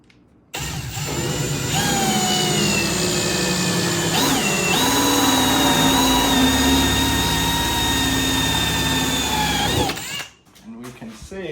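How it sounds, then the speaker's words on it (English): A power drill bores holes through a plastic trash can being made into a worm bin, its steady whine running loud and close for about nine seconds before cutting off, with a brief pitch dip midway. "now we're just going to drill the rest of the holes."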